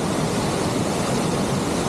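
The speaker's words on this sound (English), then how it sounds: "down below over here we have another cascade. Looks like it's a little rain runoff down there" Rain runoff spills down a creek cascade near Raymondskill Falls in Pennsylvania, a loud, steady broadband rush of falling water with no pauses or talking.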